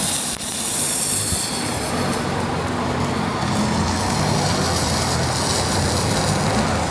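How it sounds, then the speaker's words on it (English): A MIG welder in spray transfer at about 290 amps runs steadily up close, giving a loud, continuous hissing crackle that holds without a break. "So you can hear that welder running now, that's in spray transfer"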